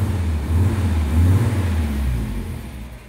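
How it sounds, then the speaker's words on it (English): A 1969 Wolseley 16/60 engine with a sticky starter motor turns over and runs, a loud, close, steady low rumble that eases off slightly toward the end. "With a sticky starter motor."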